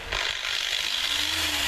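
An electric sander with a variable-speed trigger starts up, its motor whine rising steadily in pitch as it spins up, loud and close with no talking.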